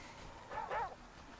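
A dog in the video game The Flame in the Flood gives a brief, faint whimpering yip in the middle, alone against quiet game ambience.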